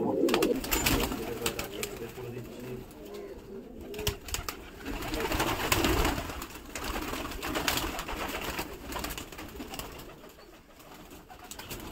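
A flock of pigeons coos steadily and close by during a morning feeding and watering, with soft overlapping calls, wing flutters and rustling continuing throughout.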